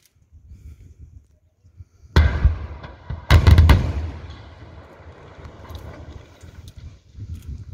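A blast goes off in a 1.7 km three-lane road tunnel under construction: a sharp loud boom at about two seconds, then a heavier, closer blast burst with rumbling debris that slowly fades into low background noise.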